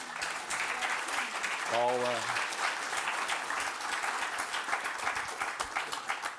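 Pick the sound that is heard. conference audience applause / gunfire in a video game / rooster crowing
conference audience applause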